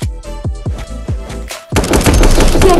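Submachine gun fire in a video game: a quick series of loud, close, sharp shots in bursts, followed by a dense continuous roar of gunfire and effects.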